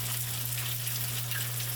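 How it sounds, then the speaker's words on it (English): A Cornish hen fries in hot beef tallow, giving a steady, soft, close sizzle with a low hum underneath and no talk. "we're just going to drop our Cornish hen in to get a beautiful crust, a beautiful color"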